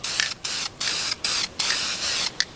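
A spray can sprays gray primer onto a truck bumper in several short, close bursts of hissing with brief pauses between them.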